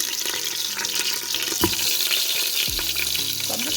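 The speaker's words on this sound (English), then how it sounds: "So I'm just gonna brown up these neck slices." Lamb neck slices sizzle as they brown in a pan, a constant crackling fry with a few clinks and scrapes of utensils near the end, and no speech.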